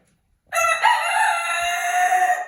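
A rooster crows loudly and close, one long sustained cock-a-doodle-doo lasting about two seconds after a brief silence.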